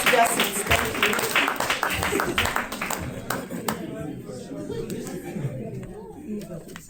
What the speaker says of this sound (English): Clap for them as they go back to their seats